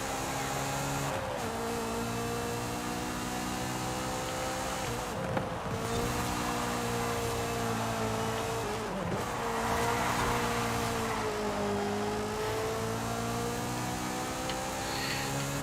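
A car engine drones steadily while driving in the racing video game Forza Horizon 5, with sustained, loud revving that rises and dips in pitch and shows brief breaks like gear shifts.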